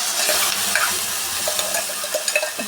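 A ground tomato and sugar paste sizzles and fries in a pan of gobi manchurian as it is stirred, with crackling, scraping and soft clinks close up and no talking.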